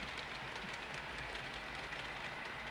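A BN freight train passes at Interbay, a faint, steady wash of rolling rail noise held at an even level from a distance, with no voices.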